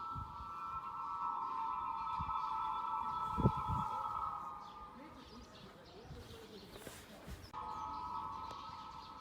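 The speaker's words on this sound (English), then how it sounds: "just listen for sort of an eerie sort of whistling sound" The wings of a pigeon in flight make a faint, eerie whistling drone that passes overhead, steady for several seconds, with soft chirps and ambient outdoor noise beneath.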